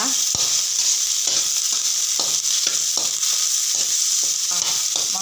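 Dried red chillies fry in sesame oil with a constant loud hiss and sizzle, punctuated by a regular series of soft clicks and stirs from a utensil; close and continuous, with no voices.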